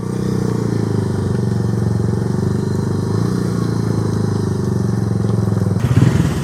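A motorcycle with big, thick tyres labours along a slippery rural Bengal road, its engine chugging steadily and loudly up close, with a brief burst of rougher noise near the end.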